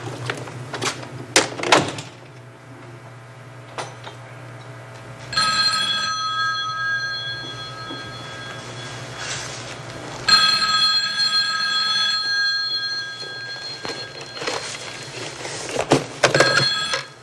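An old-fashioned telephone bell rings in bursts from a 1977 television program, loud and near, separated by short gaps with a low steady hum underneath.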